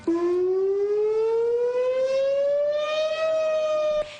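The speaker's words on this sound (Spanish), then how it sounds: "Lince fue uno de los primeros distritos en instalar una sirena antisísmica." An earthquake warning siren in the Lince district of Lima sounds alone as one loud, steady wail whose pitch rises slowly over about four seconds, then cuts off.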